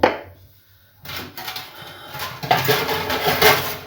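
A lid clatters onto a boiling pot during breakfast cooking, giving a few close metallic clanks and rattles, with quiet kitchen sounds in the first second.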